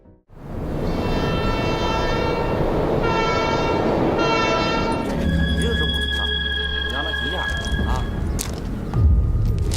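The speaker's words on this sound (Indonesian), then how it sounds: "Daki tiba di kawasan rel kereta dan mengejar Huang Mao di atas rel" A train passes on railway tracks with a blaring multi-tone horn sounding in bursts, then steady loud wheel and carriage rumble with squealing tones, heavy and close throughout.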